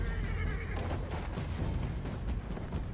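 A horse whinnies in the World War I shooter Battlefield 1, a brief neigh near the start set over a dense, rumbling mix of hooves and game noise.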